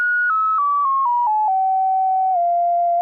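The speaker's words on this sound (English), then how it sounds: "It's a sine wave oscillator" A pure, clean sine wave tone from a synthesizer oscillator steps down in pitch over several short stages, each step marked by a soft click, then holds steady, alone and fairly loud with no voices.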